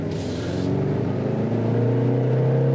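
A 2018 Jaguar E-PACE engine revs up close and loud, its raspy note climbing steadily in pitch as it accelerates, with no talking over it.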